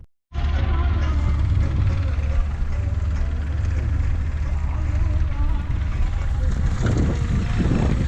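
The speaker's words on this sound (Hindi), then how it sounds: "वहाँ पर पापा ट्रैक्टर चला रहे हैं" A tractor drives through a farm field. Its engine makes a steady, loud low rumble that starts abruptly and carries on throughout, with a person talking over it.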